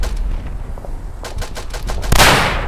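Rapid rifle and machine-gun fire in the Verdun video game, a run of sharp close shots followed by a louder, denser burst near the end.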